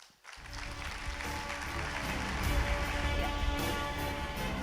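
An audience at a Disrupt Asia 2017 morning keynote breaks into dense, sustained applause that swells slightly and holds steady.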